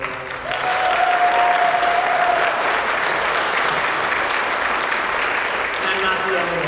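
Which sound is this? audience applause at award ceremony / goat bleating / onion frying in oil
audience applause at award ceremony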